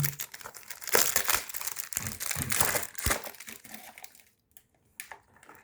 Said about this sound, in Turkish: Şimdi sihirli kutumuzu açıyoruz.